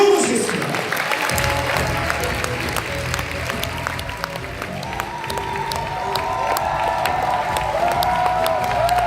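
Audience applause at a Nu Skin success rally in a large hall, steady dense clapping with scattered cheers filling the space throughout after an opening moment of quieter sound.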